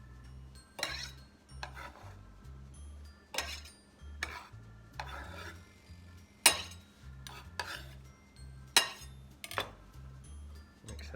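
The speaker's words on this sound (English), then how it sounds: "Mix it up just a little bit." A utensil stirs French dressing in a bowl, making quiet, rhythmic scraping and clinking strokes about once a second over a low steady hum.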